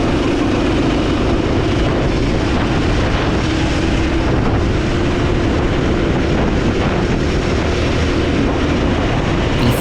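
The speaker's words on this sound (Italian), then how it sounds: "Guardate come pattina quel go-kart, come va in sovrasterzo." A go-kart racing on the Rozzano Dreamkart track, its engine a loud, continuous roar that holds steady throughout and dominates without pause.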